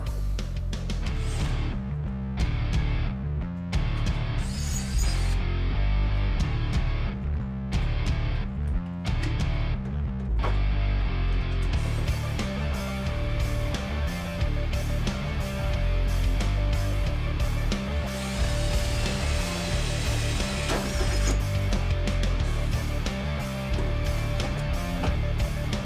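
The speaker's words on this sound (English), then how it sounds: "I've got my Spectrum 625 Extreme Plasma Cutter set to 20 amps" Spectrum 625 Extreme plasma cutter at 20 amps cutting holes through a car firewall, guided by a 1/4-inch plywood template; a steady loud hiss and hum runs throughout, with a sustained high whine joining in the later half.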